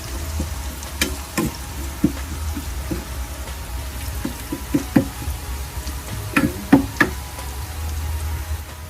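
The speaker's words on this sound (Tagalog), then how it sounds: "Stay lang natin mag-brown konti yung bawang." Garlic browns in a frying pan for Bicol Express, a moderate sizzle under irregular knocks and scrapes of a spatula against the pan.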